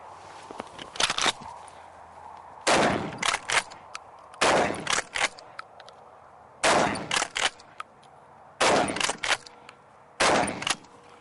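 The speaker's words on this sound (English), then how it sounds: "we're going to present the gun onto target and fire 5 shots in your own time" Five bursts of shotgun fire at a target on a firing range during a firearm compliance assessment, loud and close, spaced unevenly across several seconds, each shot sharp with a short echoing tail.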